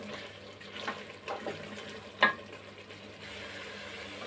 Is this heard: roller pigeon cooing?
no